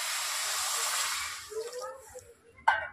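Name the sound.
pouring water into sugar in a wok for syrup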